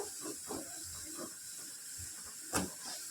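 Onions fry to a deep brown in a pan for broiler chicken sukka, giving a quiet, steady hiss with soft scattered scraping and one brief sharp crackle near the end.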